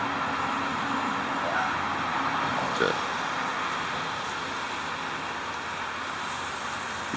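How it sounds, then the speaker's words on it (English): Road traffic on a bridge above a riverside campsite on the Yadkin River in March, a steady distant rumble and hiss of passing cars with a brief louder pass midway, continuous and fairly faint. "The traffic picked up on the bridge up there and made it a little noisy this morning"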